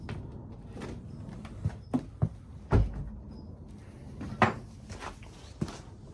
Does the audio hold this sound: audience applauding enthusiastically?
no